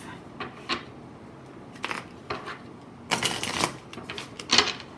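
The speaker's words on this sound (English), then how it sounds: "Going to my real little deck here of" A small tarot deck being shuffled by hand, several separate bursts of crisp card riffling and shuffling, close and fairly quiet, with no talk.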